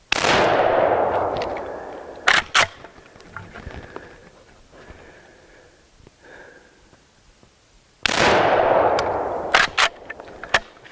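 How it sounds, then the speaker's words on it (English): A Savage 99EG lever-action rifle in .300 Savage fires twice outdoors at a target in a tree. Each loud, sharp blast rings out and decays, followed by metallic clicks of the action being worked. "I'm going to try to shoot higher. I'm going to try to shoot his head."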